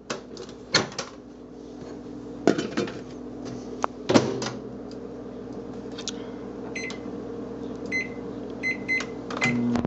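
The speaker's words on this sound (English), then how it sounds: "The microwave upstairs is weak, so it takes like 45 seconds to melt that much butter." A weak upstairs microwave oven hums steadily while melting butter, with a few sharp knocks and clatters of cupboard doors or dishes and faint beeps scattered over the running drone.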